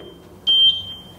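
A workout interval timer for a home HIIT bodyweight session gives one loud, sharp electronic beep of about a quarter second, standing out over a quiet room.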